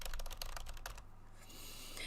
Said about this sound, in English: could you hear typing too?